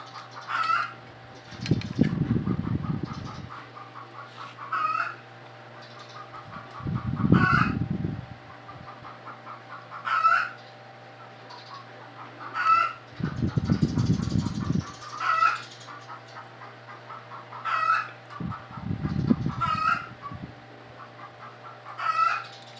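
A chicken clucks noisily and a rooster crows in several long bursts, loud and close, with steady clucking between the crows and a constant low hum underneath.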